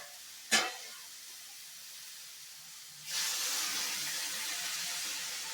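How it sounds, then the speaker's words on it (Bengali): Water poured into a pan of sautéed vegetables for Bengali shukto sets off a sudden loud hiss that settles into a steady sizzle and steam, following a short sharp clatter at the start; no talking. "এবার আমি জল দিয়ে দেবো।"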